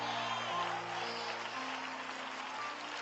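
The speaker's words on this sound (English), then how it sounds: "Clap, ladies, right there." An audience applauds steadily for a few seconds during a pre-marriage counseling session, a continuous wash of clapping with a faint tonal hum underneath.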